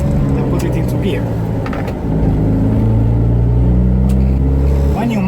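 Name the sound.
car (the 500) engine accelerating while shifting gears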